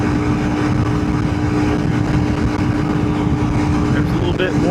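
A big-bore Honda CRF300L Rally motorcycle cruises near full throttle at 75 mph, its engine a steady, loud droning hum mixed with rushing wind noise and no letup throughout.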